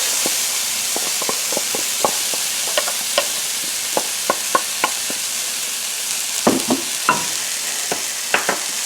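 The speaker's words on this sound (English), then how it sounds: "saute my diced up onions and peppers" Diced onions and peppers sizzle in butter in a pan, a steady frying hiss broken by frequent short clicks and pops from stirring, close and alone with no talk.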